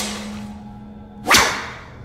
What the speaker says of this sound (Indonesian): si Gondrong pun mengambil cambuk kuda untuk lebih menyakitinya